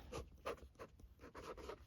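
Pen or pencil handwriting a story onto paper, close and alone, with short scratchy strokes in an uneven rhythm and brief pauses between words.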